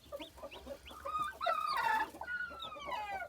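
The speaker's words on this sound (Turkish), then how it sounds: "Şu anda gördüğünüz tavuk ve civcivler başladı çıkmaya." Aseel Shamo hen with her newly hatched chicks, giving repeated high chick peeps and clucks that overlap steadily and close by, with a low hum beneath.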